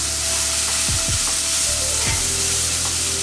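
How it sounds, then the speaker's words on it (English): Vegetables roasting and browning in a hot pan give a loud, continuous close sizzle, with a few brief lower thumps or shifts, no voices. "Now all we're gonna do is let this sit back and roast, brown up, get nice"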